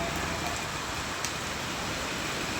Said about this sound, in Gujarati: બહુ ખૂબ વરસાદ આવે છે